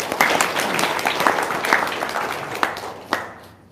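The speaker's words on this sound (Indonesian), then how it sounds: "tepuk tangan dulu dong" A seated audience of men claps in a short burst of applause, a dense patter with a few sharper individual claps standing out near the end.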